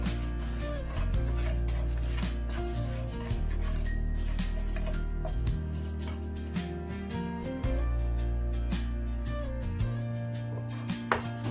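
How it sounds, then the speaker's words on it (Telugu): Urad dal dry roasting in a pan on a low flame, with dry lentils rattling and a spoon scraping and stirring against the pan in repeated bursts, close and fairly loud. "అదే ప్యాన్లో నాలుగు టేబుల్ స్పూన్ల వరకు మినపప్పు తీసుకుంటున్నాను ఇది కూడా కాస్త కలర్ చేంజ్ అయ్యే వరకు సిమ్లోనే వేయించుకోవాలి"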